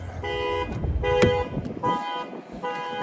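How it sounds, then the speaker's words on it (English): A car alarm blares close by in repeating tonal bursts with short gaps between cycles. "You can't catch a break from these alarms"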